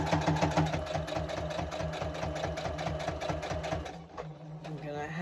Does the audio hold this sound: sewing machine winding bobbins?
yes